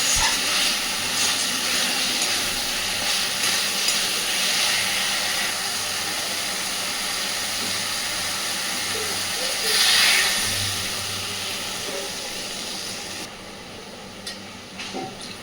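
Water poured into a hot pan of fish kalia curry with potatoes, a loud steady hissing rush that swells briefly near the middle, then eases to a quieter simmer.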